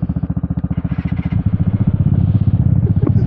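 Vespa scooter engine cranking with rapid rhythmic chugs, then catching and running at a loud, close, rough idle.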